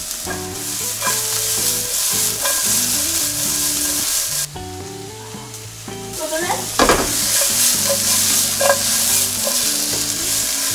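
Fresh peppers sizzle and fry in a pan as a utensil stirs them, steady loud crackle through the clip with background music and a brief dip in the middle, a sharp scrape near the seventh second.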